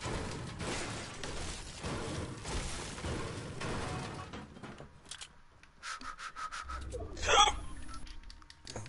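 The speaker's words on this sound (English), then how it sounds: "Why, that was a hiccup." A single sharp hiccup pops out near the end, following several seconds of rustling and rubbing noises close by.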